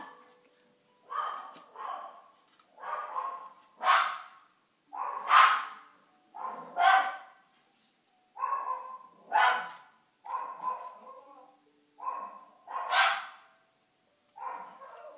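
A dog barks repeatedly at a steady pace, each bark distinct with short pauses between, fairly close and loud.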